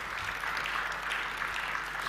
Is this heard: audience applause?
yes